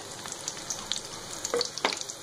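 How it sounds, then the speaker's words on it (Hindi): Coarsely chopped chillies, onion and cumin frying in hot oil for a Rajasthani sweet-and-sour pumpkin dish, giving a quiet, steady sizzle with a few sharper crackles and pops, close by with no speech. "और इन्हें ब्राउन होने तक तैयार करते हैं, इन्हें फ्राई कर लेते हैं।"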